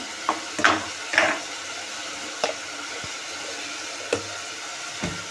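Potato gravy ingredients sautéing in a pan, a faint low sizzle under a handful of scattered spoon scrapes and clinks against the pan, close by with no talking.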